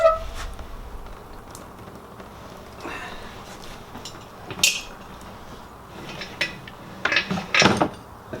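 Tools and metal parts clatter and clink during teardown of an RB25 engine block, with scattered sharp knocks and a few louder metallic handling bursts near the end, fairly close, no talking.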